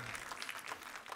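Audience at a French personal-development talk breaks into applause, a brief, even patter of many hands clapping at a distance.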